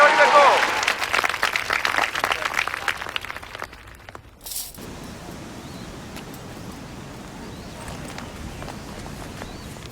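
Audience applause as a crowd is asked to clap, a dense burst of clapping for the first few seconds that fades into a quieter murmuring background.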